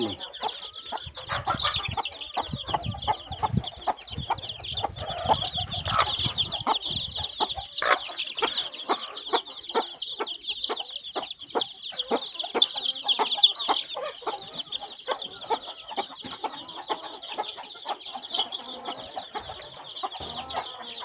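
Free-range country chickens cluck steadily in a flock, a dense run of short, sharp clucks and chatter that goes on without pause, with an occasional louder call standing out nearby.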